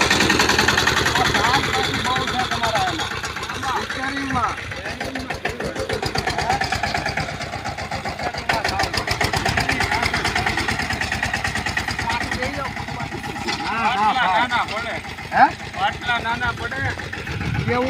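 Tractor engine idles on a farm with a steady low chugging rumble throughout, mid-distance, while people talk over it for much of the time.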